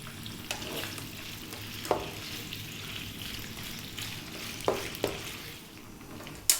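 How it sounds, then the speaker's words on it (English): Pork stir-frying in a pan produces a quiet, continuous sizzle. A few sharp clinks and scrapes of the utensil against the pan come through at irregular moments, and no one speaks. "What we need to do now is fry this for about 6 minutes."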